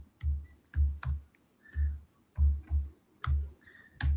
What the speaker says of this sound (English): Look in the chat. And I'll type something.